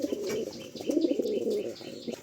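Pet pigeons cooing close by in a loft, a soft throaty rolling coo repeated in short bursts with faint chirps and a little wing flutter.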